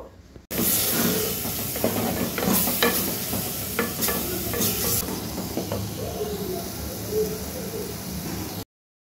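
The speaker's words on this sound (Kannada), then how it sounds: "ಈಗ ನಾವು ಮಿಕ್ಸಿ ಮಾಡ್ಕೊಂಡಿರೋ ಖಾರ ಪೇಸ್ಟ್ ಐತಲ್ಲ ಅದನ್ನು ಹಾಕ್ಕೊಂಡು 1-2 ಸೆಕೆಂಡ್ ಚೆನ್ನಾಗಿ ಫ್ರೈ ಮಾಡ್ಕೋಬೇಕು" A spicy ground paste is stir-fried in a mud pot while making a batani pea gravy. Steady sizzling runs under repeated scraping stirs, louder early on and easing toward the end, with no speech.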